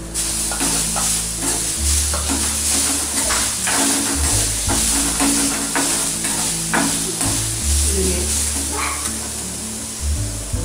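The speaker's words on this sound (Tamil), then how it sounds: "இதே வந்து இந்த தேங்காவையும் சும்மா 2 வதக்கி எடுத்துறேன்" Coconut being sautéed in a pan for mint chutney, a continuous close sizzle with rhythmic stirring scrapes throughout, over a low steady hum, no one speaking.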